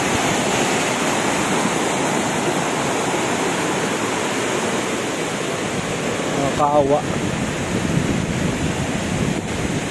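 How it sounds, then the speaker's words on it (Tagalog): Strong typhoon wind roars continuously alongside rushing floodwater, a dense, loud, unbroken wash of noise with gusty swells; a person speaks briefly partway through. "Ang lakas ng bagyo."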